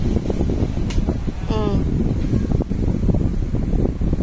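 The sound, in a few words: electric fan blowing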